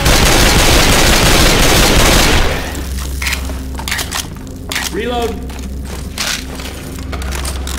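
Left 4 Dead 2 gunfire aimed at a Tank: a dense roar of shots and explosions first, then scattered cracks and thumps under shouting voices.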